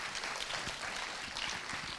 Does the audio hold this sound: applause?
yes